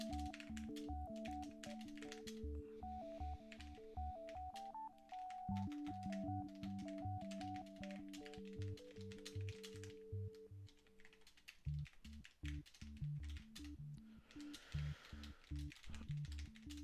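Steady, fast typing on a computer keyboard while writing a book, with dense even key clicks running the whole time under a quiet background tone and electronic music; no one speaks.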